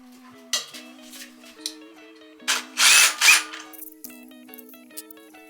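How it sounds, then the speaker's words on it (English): Power tool loosening nuts on a car's coilovers: a few short bursts of drilling or impact-driver whirr, loudest in the middle, with a steady motor hum and tool clatter between them, close up and with no speech. "So I'm loosening these nuts and whoever put these on, which was probably me, did not tighten them."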